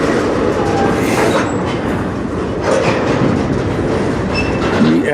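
CN manifest freight train with locomotives 5779 and 3942 rolls slowly past in Sarnia, Ontario: a loud, steady rumble of cars with rhythmic wheel clatter and occasional faint metallic squeals close by.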